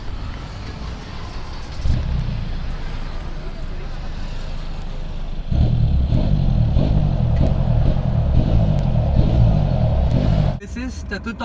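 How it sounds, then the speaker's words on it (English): A 2012 Hyundai Verna fluidic sedan with a custom muffler whistle starts up and idles, then revs harder with a loud, steady engine roar before cutting off abruptly near the end. "Time to hear the vehicle when it actually turns on."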